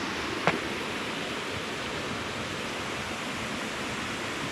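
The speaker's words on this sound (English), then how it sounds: "This is just a side creek." Steady broadband rush of a small side creek flowing near McGee Creek in the High Sierra, a continuous, even wash of water with no voices and one brief tap near the start.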